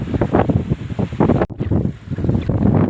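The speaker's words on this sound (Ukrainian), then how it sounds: "Чорна хмара і сильний вітер, а сховатися ніде" Strong wind roars and buffets the microphone under a black storm cloud on a cycle path in France, loud and gusty throughout, with a brief drop before it surges back.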